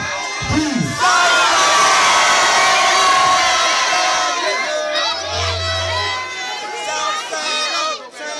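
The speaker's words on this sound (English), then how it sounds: "On the count of three, I want everybody to scream out where you fall loud as you can." A concert crowd at a live hip-hop show in Richmond, Virginia screams and cheers loudly and continuously for about eight seconds, a dense roaring wall of voices with a brief low bass thump partway through.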